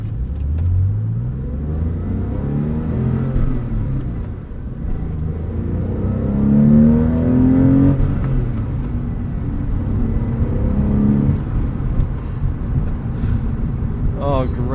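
A 2002 Porsche 911 flat-six engine revs from inside the car, its induction noise rising and falling in a low rumble mixed with road and wind noise, while people talk over it.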